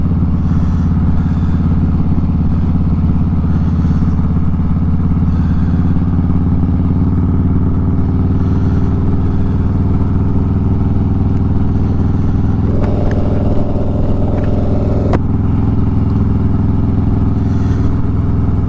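A motorcycle rides through the streets of Gainesville, Texas, its engine droning loud and steady at close range, with a brief rise in pitch and clatter partway through as it accelerates.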